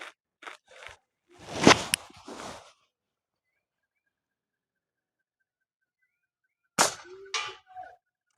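Rifle shots at an outdoor shooting range: one sharp loud crack with a short ringing tail near the start, then silence, then a second crack several seconds later, with a few faint clicks and handling noises around them.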